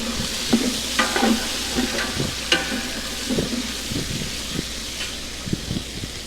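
Sliced onions frying in a pan for a chicken dish, with a steady sizzle and hiss under irregular scraping and clacking as they are stirred, close and fairly loud.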